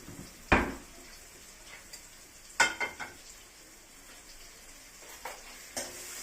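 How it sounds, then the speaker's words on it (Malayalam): Paneer pieces frying in oil in a pan, a soft steady sizzle marked by a few sharp clinks and scrapes of a utensil stirring against the pan, close by with no talking. "അപ്പോൾ നമ്മൾ ഈ പനീർ ഒന്ന് ഫ്രൈ ആക്കി എടുക്കുവാണ്"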